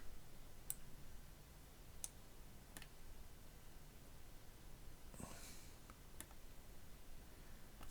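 Sparse, faint mouse clicks on a computer during Blender 2.72b animation work, several isolated sharp ticks spaced a second or so apart over a quiet background hiss.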